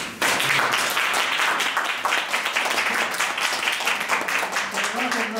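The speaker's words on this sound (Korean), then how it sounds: "우리 다시 한번 그 격려의 박수" An audience at a youth forum gives a round of encouraging applause after a lecture by a former trade association chairman, dense close clapping that starts abruptly and continues steadily, with a voice briefly audible near the end.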